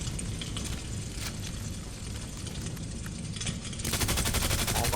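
Rapid gunfire in the survival horror game Resident Evil 2 Remake, with scattered shots over a busy background that swells into a dense, rapid rattling burst near the end, moderately loud with no talking.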